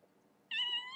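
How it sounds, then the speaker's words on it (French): A neighbour's cat gives one short, clear meow halfway through, close by against a quiet room. "C'est le chat d'un voisin."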